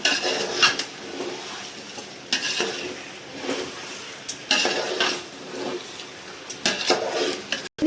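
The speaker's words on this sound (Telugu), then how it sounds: "ఇప్పుడు మొత్తానికి ఇవి మనము కలపాలి మసాలాలు అన్నీ కలిపేయాలి ఇలాగా" A spoon stirs masala spices in a metal pot while making Rayalaseema-style biryani, with scraping, clinking and a soft sizzle coming in repeated bursts close by.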